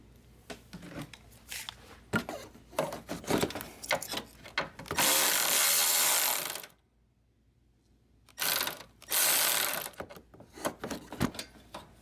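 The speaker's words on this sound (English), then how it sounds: "I'm gonna undo this bolt over here so that we can remove the horn." Hand work on a Chrysler Town & Country's horn mounting bolt: two loud bursts of broadband ratcheting, each about one to two seconds long, separated by a pause, with scattered tool clicks and knocks before and after.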